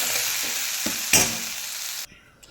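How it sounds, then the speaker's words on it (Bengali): Water goes into a pan of frying spices, giving a loud, dense hiss with a sharp burst partway through, then the sizzle drops away suddenly to a quiet simmer with a faint clink. "এবার জল দিয়ে দেবো পরিমাণ মতো জল দিয়ে দেবো"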